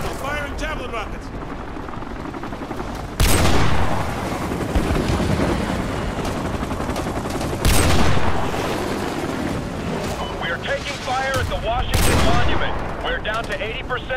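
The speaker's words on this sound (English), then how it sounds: "The evac site is still taking heavy fire" Heavy battlefield gunfire in the video game Call of Duty Modern Warfare 2 Remastered, a continuous rumbling fusillade with several big booming swells, while radio voices talk over the din.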